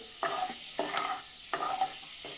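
Cumin and fenugreek seeds sauté in hot oil over a low flame while a spoon stirs the pan. Four rhythmic scraping strokes sound over a soft, close sizzle.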